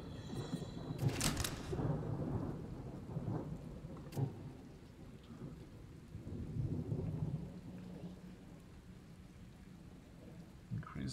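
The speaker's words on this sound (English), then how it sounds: "Yeah, I'll take the Wrathful Rain." The Wrathful Rain ability in the video game Othercide sets off a thunderstorm effect: a sharp crack of thunder, then steady rain with low rumbling and a few scattered crackles.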